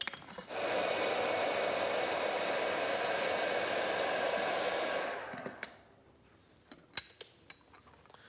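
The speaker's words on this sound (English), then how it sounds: "the best way to do that is with a hairdryer or a heat gun" A hair dryer used to heat and loosen car trim and a decal blows as a loud, steady rushing whoosh for about five seconds, then switches off, leaving a few light clicks and handling noises.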